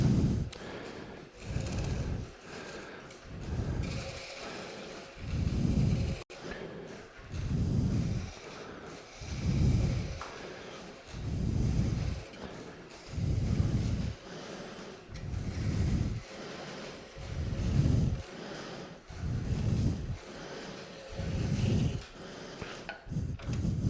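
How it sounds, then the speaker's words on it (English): A wooden toy is being turned with a spindle gouge on a foot-powered treadle lathe, giving a steady rhythmic scraping and whooshing that rises and falls about every two seconds, close and alone. "Finish that off with a spittle gouge."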